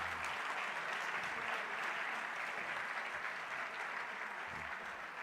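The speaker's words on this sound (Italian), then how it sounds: "Un applauso allo staff della scuola." A political gathering gives the school staff a round of applause: steady, fairly distant clapping from a large crowd that holds an even level for several seconds.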